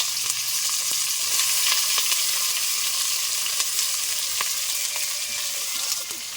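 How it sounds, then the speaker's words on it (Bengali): Onions and green chilies fry in a hot wok for a chicken dish, giving a loud, steady sizzle with occasional crackles and pops that run unbroken through the whole stretch, with no voices over it. "এই দেখুন কড়াই গরম হয়ে গেছে, পেঁয়াজ দেবে"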